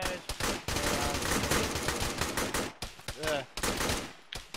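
Rapid bursts of gunfire from the military sim Arma with the ShackTac group, loud and repeated in quick volleys across the whole stretch, sharp cracks stacked closely with a brief lull near the end.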